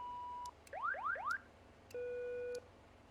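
Cockpit alarm test in a simulated Beechcraft King Air 350 in X-Plane 11: a steady tone, then a run of rising chirps, then another sustained beep with clicks between, all clear and close with no voices.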